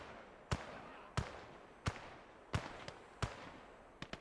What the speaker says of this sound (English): he is preemptively throwing nades at me as I'm running too